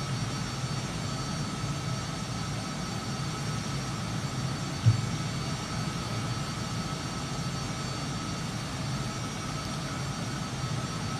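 Steady broadband roar of a Lockheed SR-71 Blackbird jet in flight in Flight Simulator 2020, a continuous engine drone with one brief click midway and no voices.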